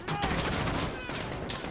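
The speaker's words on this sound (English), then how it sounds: "I really don't appreciate them shooting at me." Gunfire in Call of Duty: Modern Warfare (2019), a dense, continuous stretch of shots and fusillade filling the whole moment, loud and close, with a voice faintly mixed in.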